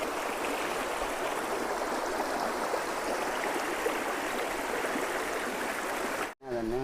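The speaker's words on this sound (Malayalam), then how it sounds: "കളകളാരവം." An icy, crystal-clear forest stream in the Aralam wildlife sanctuary babbles steadily and close over stones, then the sound cuts out briefly and a voice begins right at the end.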